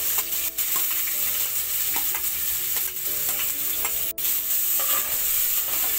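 Finely chopped onion hits the hot tempering for dal fry, setting off a steady, close sizzle that runs the whole time, with scraping stirs and a sharp clink partway through.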